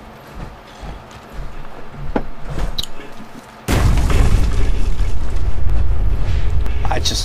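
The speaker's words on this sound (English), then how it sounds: "I just love the way the power armor makes that booming sound when you jump off something that high" Fallout 4 power armor lands after a high jump with a sudden heavy boom that gives way to a loud, sustained rumble and clatter, after a stretch of quieter footsteps and clanks.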